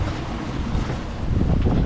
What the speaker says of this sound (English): the wind came in as forecast